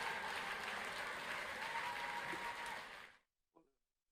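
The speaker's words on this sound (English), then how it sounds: "a round of applause for your graduates, please." Broadband clapping from many people at a university graduation ceremony fills about three seconds, steady and fairly loud, then fades out, followed by a brief faint sound after silence.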